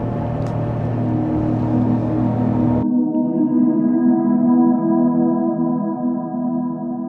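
A boat engine drones steadily on a ride through a green-water mangrove creek near Digha, with a loud, continuous rumble whose tone shifts partway through as the motor settles into a lower, smoother hum.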